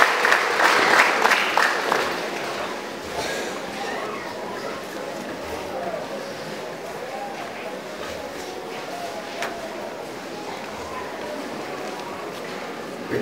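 Congregation applauding inside a church in Muhura, a burst of clapping at the start that quickly fades into a low, steady murmur of crowd noise.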